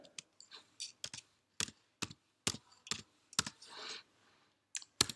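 Computer keyboard typing a search, a quiet close run of irregular key clicks in small bursts, with a brief soft rustle partway through.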